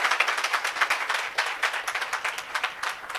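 An audience claps together at a grand welcome event in Kanpur, producing a dense, steady patter of many hands that stays fairly close and lively throughout, with no talking over it.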